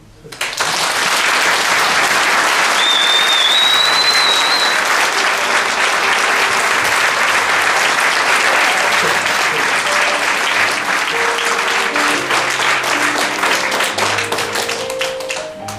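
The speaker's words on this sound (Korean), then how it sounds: "박수 한번." Wedding guests applaud at a ceremony, a loud, sustained round of clapping that swells quickly and carries on steadily for about fifteen seconds, with a brief whistle or cheer early on and faint voices mixed in toward the end.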